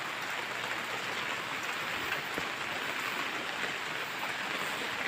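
Heavy rain pours steadily in stormy weather where ducks are kept outdoors, a dense, unbroken hiss that stays even and loud throughout, with no voices.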